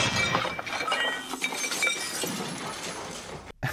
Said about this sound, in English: this moment when Henry rams the buffet car.